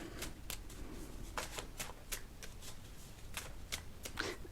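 Cards being handled from a deck, a run of quick, crisp riffling flicks and snaps at close range, faint and irregular, with no talk.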